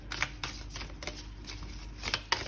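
Tarot cards are shuffled by hand in a quiet room, a series of soft riffling bursts and papery slaps recurring every half second or so, close and alone.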